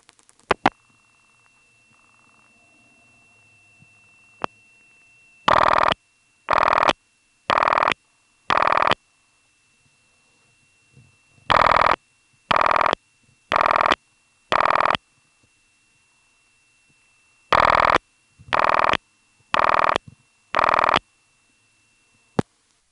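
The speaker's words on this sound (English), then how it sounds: "The last digit of the phone number determines which ring you get." Coded ringing from a 1977 NX1 step-by-step telephone exchange in Farmville, North Carolina: three groups of four short, evenly spaced rings separated by long silences, clear and close, with a few faint clicks before the first group.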